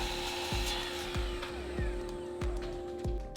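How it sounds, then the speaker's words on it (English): A miter saw cuts scrap wood pieces to length, its steady motor whine running throughout with repeated short blade bites into the wood at a regular pace, sounding close and fairly quiet. "After ripping, I moved over to the miter saw and squared up one end of each of the pieces before cutting them to their final length"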